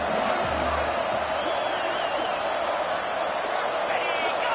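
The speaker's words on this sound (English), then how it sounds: "And with this place rocking, the crowd forces a false start." Stadium crowd in College Football 26 roaring loudly and steadily throughout as the place rocks on a fourth-down play, a dense sustained wall of noise with a faint whistle-like tone and speech mixed in.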